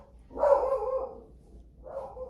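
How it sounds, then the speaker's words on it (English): A dog gives two barks or short growling barks indoors, the first longer and louder, the second quieter after a pause. "you don't have to bark at every dog"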